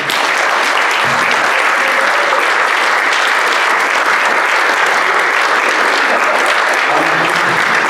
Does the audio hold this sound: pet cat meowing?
no